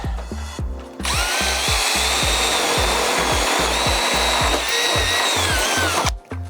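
A power drill whines continuously while boring a rivet hole in a semi-timber frame door, with rhythmic low knocking beneath it, then stops abruptly.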